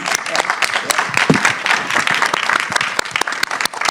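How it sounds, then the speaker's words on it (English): A loud round of applause from an audience at a social work school gathering, dense steady clapping with some voices mixed in, carrying on throughout. "I think that deserves a round of applause"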